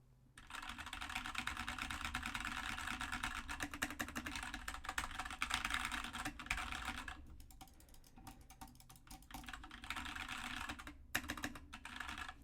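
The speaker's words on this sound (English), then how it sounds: "I'm going to be using the Keychron K2, again, cherry red switches." Steady, continuous typing on a Keychron K2 keyboard with Cherry Red switches, rapid soft key clatter close to the mic, with brief pauses near the middle and end.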